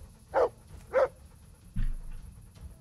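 Dog barking in the video game Kingdom Come: Deliverance: two short, sharp barks about half a second apart, then a lower, muffled woof, fairly quiet over a faint game background.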